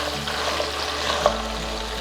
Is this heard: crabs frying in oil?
yes